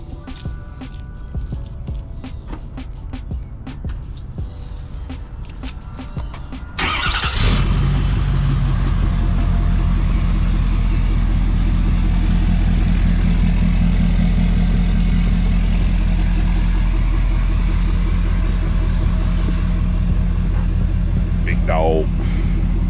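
A truck engine cranks and starts, then settles into a loud, steady, deep idle rumble heard close up for over fifteen seconds, with a voice briefly over it near the end.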